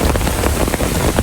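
Heavy typhoon rain from Typhoon Shanshan pounds loudly and steadily on surfaces nearby, a dense close patter with a low rumble beneath and no voices.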